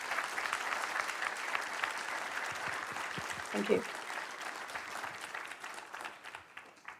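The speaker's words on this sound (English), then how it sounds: "Round of applause, please, for Dr. Hill." Audience applause for a speaker at a space-weather conference session, a sustained steady clapping that fills the room from start to finish, with a brief voice heard partway through.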